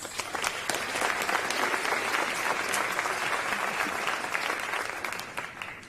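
Sustained applause from an audience at a live State of the City civic address fills the room as a dense, steady wash of many hands clapping at moderate distance, with no talking over it.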